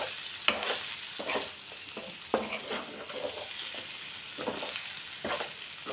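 White brinjal frying in a pan with salt and green chilli spice, a continuous sizzle broken by repeated scraping stirs and occasional utensil knocks.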